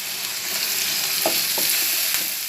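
Tomatoes hit a hot pan for vegetable pasta, giving a steady, even sizzle and frying hiss with a few soft stirring knocks.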